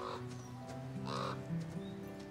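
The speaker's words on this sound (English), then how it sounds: "Is that a crow?" A crow caws in the horror video game The Quarry. Two or three faint, distant caws sit over a steady low ambient drone.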